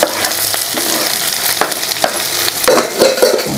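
Tomatoes are stir-fried in a hot pan, giving a steady loud sizzle with repeated scraping and stirring strokes throughout; no voices.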